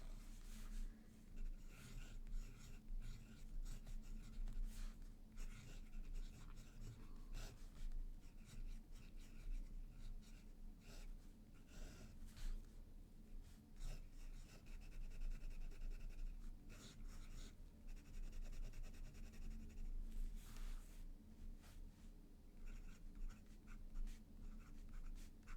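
An Esterbrook fountain pen with a journaler nib scratches softly across paper in continuous strokes, faint and close, with light breathing in the background.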